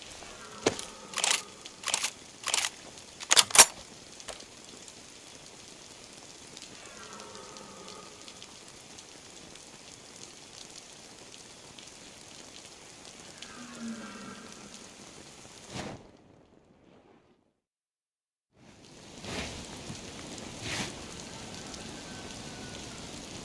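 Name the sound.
rain falling in a video game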